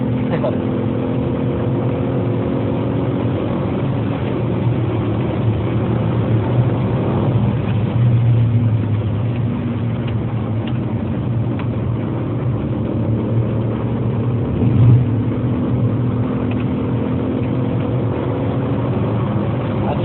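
A car engine drones steadily from inside the cabin, a low continuous hum with road rumble and no clear changes in pace.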